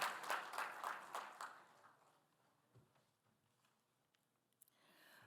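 An audience applauds to greet the chief guest at a launch event with Gujarat's Chief Minister, a burst of clapping at the start that fades away into near silence, followed by a few faint knocks.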